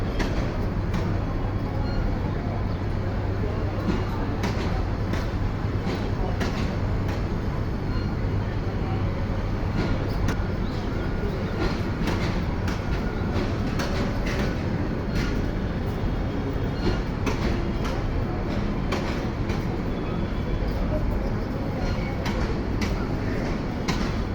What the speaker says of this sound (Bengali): অনেক বিশাল বড় এই ট্রেনটা